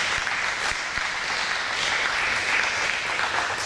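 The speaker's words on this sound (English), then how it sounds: "Let's give a round of applause to our cello players" Audience at an education concert applauding the cello players, a dense, steady burst of many hands clapping close and loud for several seconds, with no talk over it.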